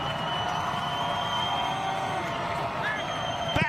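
Crowd at an NCAA tournament second-round men's college soccer match, SMU vs Denver, rising as a penalty kick is set: a steady, dense roar of many voices that holds throughout, with a commentator speaking over it.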